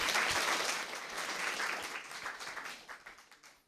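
An audience at a CreativeMornings talk gives a burst of applause, a dense wash of many hands clapping that starts loud, holds steady, then thins and fades out near the end.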